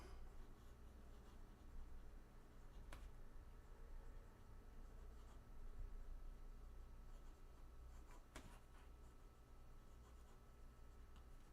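A fountain pen scratches across paper in a soft, continuous close-up whisper of nib strokes, with a couple of slightly sharper taps, very quiet and without speech.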